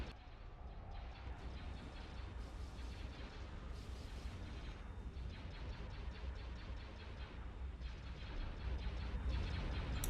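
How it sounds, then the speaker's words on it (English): Batteries of a Super Star Destroyer firing in Thrawn's Revenge, a dense barrage of overlapping booms and blasts that runs without a break, with no voices. "Super Star Destroyer ready. All batteries commence firing."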